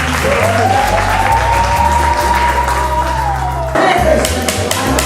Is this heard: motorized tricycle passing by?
no